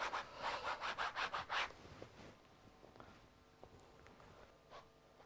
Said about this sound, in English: I am rubbing this in, I am keeping this soft so the oranges still